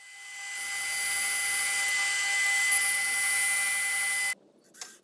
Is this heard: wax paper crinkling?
no